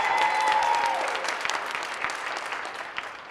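An audience at the All-America City 2025 presentations breaks into applause, a broad wash of clapping that starts full and slowly thins into scattered claps.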